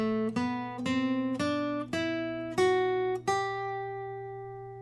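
An acoustic guitar plays a major scale in single notes, about seven plucked tones stepping upward, each one ringing and fading before the next. The last note sustains longer. Close, clean and fairly quiet, with no talking.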